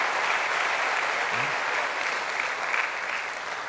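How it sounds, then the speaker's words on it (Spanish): Church congregation clapping hands in praise during a Spanish-language service, a dense, continuous wash of applause at steady loudness throughout, with no pauses or individual claps standing out. "Ahora sí, vamos a alabar con nuestras palmas."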